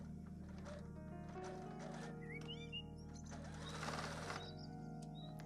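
Sewing machine stitching small plush goose foot pieces along marked lines, a steady continuous mechanical hum and rapid needle chatter running the whole time, close and even in loudness, with a few faint squeaky high tones over it.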